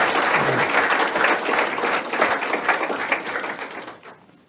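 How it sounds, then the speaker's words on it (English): A seminar audience at a George Washington School of Business entrepreneurship event applauds the speaker Dan in a steady, dense round of clapping that fills the room, then tapers off near the end. "Can we give Dan a great big round of applause?"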